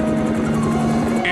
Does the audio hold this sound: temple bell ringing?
no